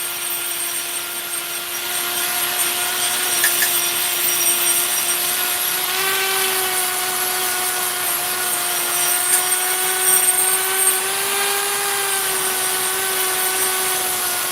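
A Kutzall rotary burr grinds steadily with a sustained high whine and harmonic tones, running continuously at a fairly even loudness with slight pitch shifts, no talking.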